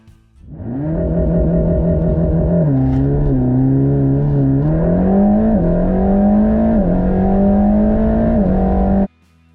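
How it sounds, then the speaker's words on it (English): A Mercedes-AMG GT Black Series with a flat-plane crankshaft engine revs loudly and continuously for about nine seconds, its pitch climbing and settling in steps before cutting off abruptly, with no one talking. "the downside of this is engine noise because the sound from this engine is uninspiring"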